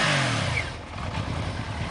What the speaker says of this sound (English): Couple motorcycles.